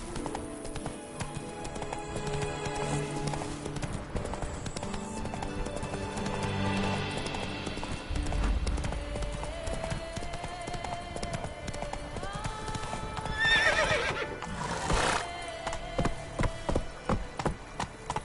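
Roach, the horse in The Witcher 3: Blood and Wine, gallops with a quick, steady clip-clop of hooves over game music, then gives a brief neigh. A voice talks faintly underneath.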